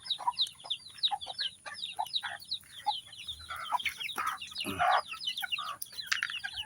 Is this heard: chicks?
yes